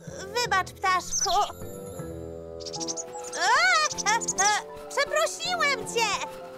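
A cartoon bird from Fireman Sam chirps and tweets in sharp, sweeping bursts while defending its nest, mixed with close animated-character speech.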